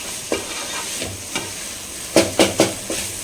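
Cluster beans stir-fried fast over a high flame, a steady sizzle broken by several sharp spatula scrapes and knocks, a cluster of them bunched near the end, close and with no talk.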